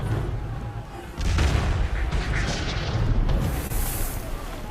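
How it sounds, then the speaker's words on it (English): Distant cannon fire rolls in as deep, rumbling booms, a sustained heavy reverberation swelling after the first second and lingering at moderate loudness. "the sound of cannon fire"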